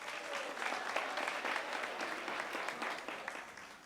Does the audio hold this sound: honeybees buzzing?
no